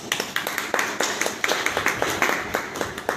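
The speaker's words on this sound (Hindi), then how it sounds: "तो इसके लिए एक बार जोरदार तालियां" At a product knowledge session, a small audience claps in quick, fairly even bursts, close and lively, with the claps running steadily for a few seconds without speech.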